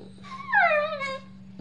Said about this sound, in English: It was just my dogs barking.